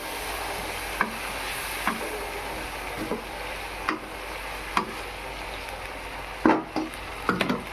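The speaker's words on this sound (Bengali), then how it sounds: "একটু নেড়ে চেড়ে নিলাম" Kulekhara greens and potatoes being stirred in a frying pan, with a low steady sizzle and a series of sharp spatula scrapes and taps roughly every second, close by with no talk.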